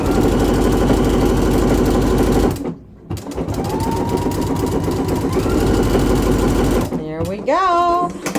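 A sewing machine runs in steady bursts while stitching the final sleeve seam of a top, its rapid mechanical whirr pausing briefly mid-way, with a short spoken comment near the end.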